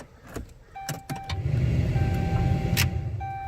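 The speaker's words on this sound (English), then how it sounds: "Start the truck." A Ram 2500 pickup with a 6.7-liter Cummins diesel cranks over on the key, a short clatter and churn building into a steady low rumble, with faint chime tones and rattles on top and no talking.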